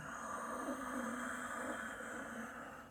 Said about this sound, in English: If you want to add ujjayi breath,